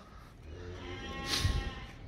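A large, heavy Rajanpuri goat at a livestock sale gives one brief bleat about midway, over a steady background hum.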